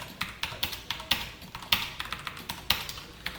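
Someone types code on a computer keyboard, with close, crisp key clicks in quick uneven bursts and a few louder strikes, quiet overall with no speech.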